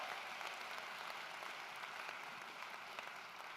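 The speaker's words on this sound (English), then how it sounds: "Give yourself a big round of applause" Audience at a town hall meeting with the mayor applauds steadily, a faint, even wash of clapping with no breaks throughout.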